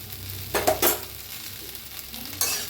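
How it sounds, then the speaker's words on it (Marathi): Okra frying in a kadai over a high gas flame makes a steady close sizzle, broken by a few sharp stirring scrapes near the start and one more toward the end. "गॅसवर तेज करून भाजून घेऊया भेंडी"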